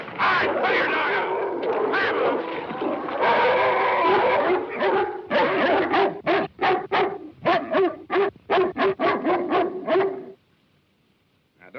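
A sled dog barks repeatedly and loudly, the barks growing into a rapid run of sharp yelps before stopping abruptly, with voices mixed in early on.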